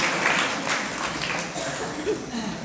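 Listeners at a religious discourse break into clapping, a loose, moderately loud patter that fades a little partway through, with a brief voice and faint chuckles underneath.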